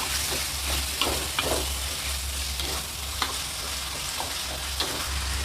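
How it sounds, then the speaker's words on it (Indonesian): Squid is stir-fried in a hot pan, a steady sizzle broken by repeated scraping and stirring strokes from a utensil, close and continuous. "ini aku mau masukkan cuminya aja. Kita oseng-oseng dulu."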